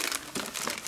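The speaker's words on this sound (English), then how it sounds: "Let's go ahead and unwrap this camera." Plastic packaging around a PlayStation Move camera crinkles and crumples in one brief close burst, loud for under a second with no voice over it.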